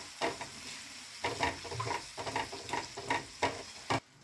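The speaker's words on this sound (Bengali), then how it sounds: "এবার ওটাকে একটু ভালো করে আমি এর সঙ্গে মিশিয়ে নিচ্ছি।" Yogurt stirred into hot spiced oil in a pan over a low flame, a soft sizzle broken by rhythmic scraping strokes of a spoon, quiet and close with no talking.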